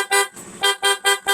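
A horn installed on a Bajaj Dominar 400 motorcycle honks loudly and close up, sounding five short, bright toots in a quick irregular series with a brief gap after the first.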